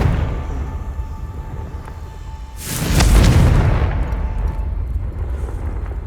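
A blasting spell's explosion, a single deep boom that swells and rumbles for a couple of seconds before fading into a low roar.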